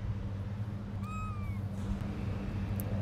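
Kittens give a single short meow near the start, faint over steady low rumbling background noise from an outdoor park setting.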